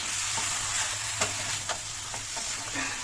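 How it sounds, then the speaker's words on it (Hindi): Mutton browning in a hot pan and catching on the bottom, a steady close sizzle with scattered stirring scrapes and soft clicks, no voices. "ये देखिए मेरा मटन भी अच्छे से भून चुका है, ये नीचे एकदम चिपक जा रहा है"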